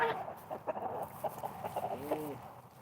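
A rooster clucks and grumbles in a run of short, throaty calls while a hen wanders among geese, the fowl sounds fairly close with background bird noise around them.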